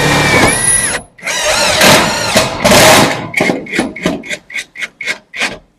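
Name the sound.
cordless impact drill drilling wood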